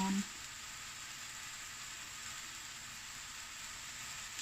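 Vegetable chow mein sizzles steadily in a hot pan as dark soy sauce goes in, a constant bright frying hiss at moderate level with a small clink at the start.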